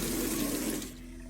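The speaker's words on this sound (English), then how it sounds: "Tap's going again." Water runs from a tap into a sink, loud and close, then drops to a quieter trickle partway through; no talking.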